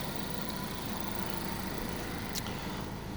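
A Ford Focus engine idles steadily during hydrogen engine cleaning, a faint, even mechanical hum with no change in pace, heard alone without voices.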